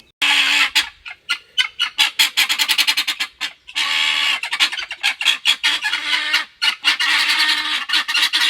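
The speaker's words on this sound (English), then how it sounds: "something got my guineas all riled up. They're squawking like crazy." Guinea fowl squawk loudly and frantically back in the woods, a dense flock of harsh, rapid, repeated calls overlapping almost without pause.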